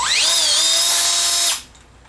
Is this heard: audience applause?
no